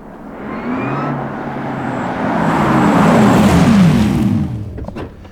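A 2021 Porsche Taycan electric car pulls away uphill with a loud, rising road and motor rush that swells and peaks before easing off near the end, with no talk over it.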